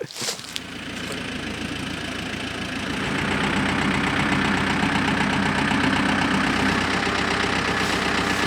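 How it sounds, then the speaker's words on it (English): A tractor engine starts and settles into a steady, rough idle, close and fairly loud, its knocking rumble growing a little fuller after a few seconds, with no voices. "let's go get the tractor."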